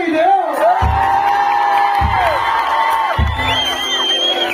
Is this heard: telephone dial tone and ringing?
no